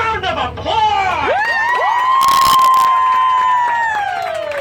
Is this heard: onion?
no